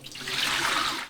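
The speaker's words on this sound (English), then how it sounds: "I'm just going to pour out the rest of the water" Water poured out of the hopping chamber of a Pinter home brewing machine during cleaning, heard as a continuous splashing rush that swells quickly, holds steady for about a second, and stops abruptly.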